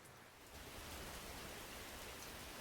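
Rain sound effect switched on in a video game swells in after a quiet half second into a steady, soft broadband hiss of falling rain, faint and even with no voices.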